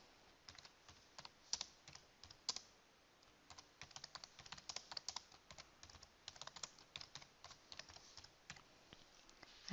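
Quiet, steady typing on a computer keyboard as a document title is entered, a run of soft irregular key clicks close by with no talking.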